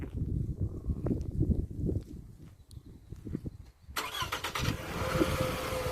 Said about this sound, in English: You've also got remote engine start, which is a really cool feature on this.